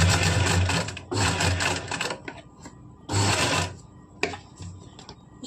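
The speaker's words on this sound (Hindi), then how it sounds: "इसमें भी हम इस तरह से बड़े टांके की सिलाई लगा के इस फैब्रिक को हम फोल्ड कर लेंगे।" A sewing machine running long basting stitches through kurti fabric, loud and close, whirring in steady bursts of about a second with short pauses between runs, no talking.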